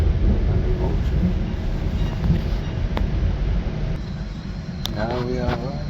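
GO Train travelling at night, heard from inside the carriage as a steady low rumble with wind-like rush, a few faint squeals and tones near the end.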